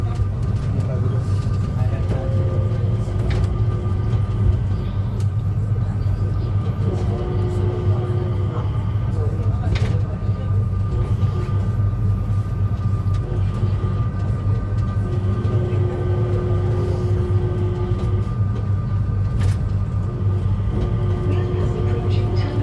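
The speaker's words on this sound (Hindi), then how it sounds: "तो हम लोग चले गए स्काई ट्रेन करके टर्मिनल 1 पे।" Skytrain people mover at Changi Airport running toward Terminal 1, a steady low rumble and hum of the moving car with faint tonal whines and announcement-like chimes, some indistinct background voices throughout.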